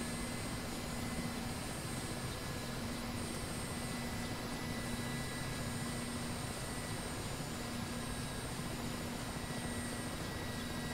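Mi-8 helicopter engines in DCS running down after throttling back, a steady dense turbine roar and whine that stays even and unbroken throughout, with no voices.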